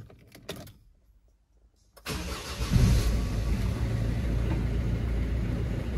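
A Peugeot Expert III van with a 1.6 HDI diesel engine, recovered from a no-crank no-start fault, whirs through a short silence, then catches and starts, settling into a loud, steady close idle.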